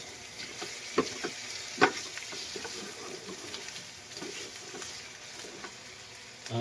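Pork pata frying in a pan for humba, giving a steady close sizzle with a few louder crackles and stirring noises.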